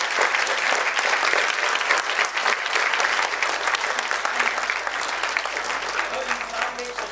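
Loud, sustained applause from a theatre audience at a play, steady clapping throughout with no pauses.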